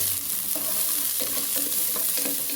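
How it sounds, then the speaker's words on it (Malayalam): Onions sautéing in ghee in a pan, a steady close sizzle with soft stirring scrapes running throughout, no voices. "ഇനി ഇതിലേക്ക് ഉള്ളി ഇട്ട് കൊടുക്കണം കേട്ടോ. ഉള്ളി നന്നായി വഴന്ന്"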